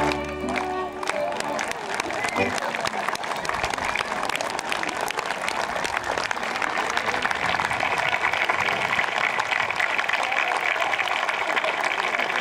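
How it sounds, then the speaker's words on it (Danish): An audience at the 2013 dance festival on Bornholm gives the musicians sustained, dense applause that fills the space and continues steadily to the end, with a brief voice heard at the very start. "En rigtig stor hånd til musikken"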